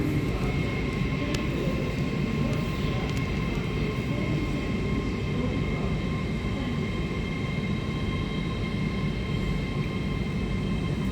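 A Great Western Railway Class 800 train, units 800-029 and 800-017 bound for Carmarthen, passing through a station with a steady loud rumble and hum, faint clicks above the continuous drone.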